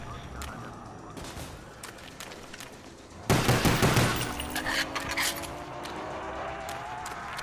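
A Tommy gun fires a sharp, loud burst of rapid shots midway through a Call of Duty Black Ops zombies match, after quieter game ambience, then trails off into background noise.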